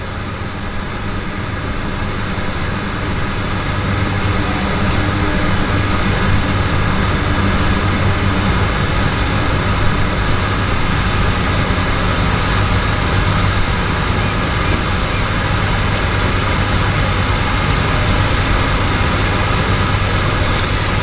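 A red Twin Otter floatplane in Canada flag livery takes off from Vancouver's downtown harbour, its turboprop engines giving a steady, loud, continuous roar that builds slightly and holds throughout, with no talking.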